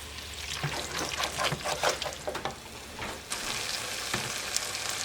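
Diced tomatoes pour into a hot pan of gumbo base being deglazed, sizzling and splashing with wet stirring scrapes, close and fairly loud, with no one speaking.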